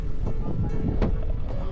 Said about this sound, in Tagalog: Malamig dito la at mahangin.